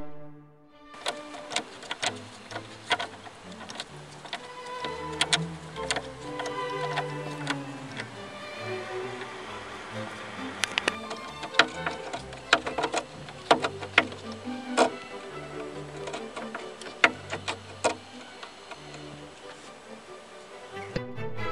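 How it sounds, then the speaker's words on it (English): Screws driven in to fix the rear of the center console on an Opel/Vauxhall Vectra C or Signum: clicking, ticking ratchet-like mechanical sounds in irregular bursts, close and moderately quiet, with no talk. "Attach center console at rear. To do this, screw in 2 screws."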